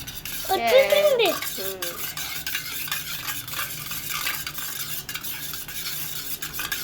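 Eggs being beaten with a spoon in a bowl for an omelette make a brisk, continuous clicking and tapping close by, with a voice briefly heard at the start.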